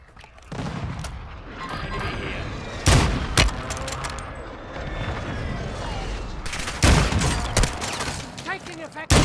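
Gunfire in the video game Call of Duty Modern Warfare II, dense sustained bursts of automatic fire mixed with heavy booming blasts, loud and close, with brief spoken radio callouts mixed in.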